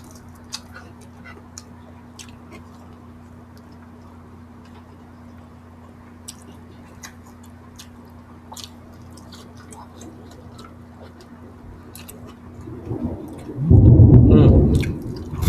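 A low rumble of thunder swells up near the end, loud and booming after a long quiet stretch with faint ticking sounds.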